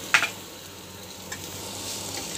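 Chopped tomato dropped into hot oil with sizzling spices for a Bengali mutton curry: a sharp burst of frying hiss at the start, then a quieter steady sizzle with a faint clink.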